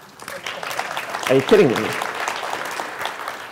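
Conference audience at a JavaScript developer talk breaks into applause, clapping swelling midway and continuing under a speaker's voice and laughter.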